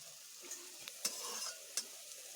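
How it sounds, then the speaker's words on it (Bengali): Small fritters of lentil paste fry in hot oil for a ridge gourd dish, a soft steady sizzle broken by a few sharp clicks of a spatula or utensil nearby. "ডালের পেস্টগুলোকে বড়া আকার করে ছোট ছোট করে ভেজে নেব"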